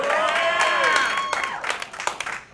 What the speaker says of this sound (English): He always gets bigger applause.